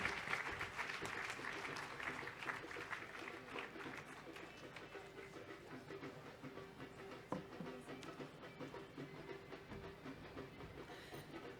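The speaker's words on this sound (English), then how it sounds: "Big round of applause, please." Audience applause closing a literary conversation with historians Tom Holland and William Dalrymple about Europeans' views of India, a steady dense clapping that runs for the whole stretch, moderately loud with some crowd murmur underneath.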